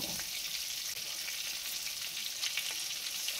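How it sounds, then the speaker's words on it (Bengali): Chicken pieces fry KFC style in medium-hot oil with a steady, soft hiss and crackle, close up and quiet, with no voices over it. "মিডিয়াম গরম রেখে এখন আমরা এর মধ্যে চিকেনগুলোকে ছেড়ে দিচ্ছি।"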